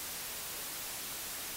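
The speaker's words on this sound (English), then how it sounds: "you should hear some white noise." Steady broadband white noise from a loopback audio monitoring feed on a Windows recording setup, constant and even in level with no other sounds and no pauses.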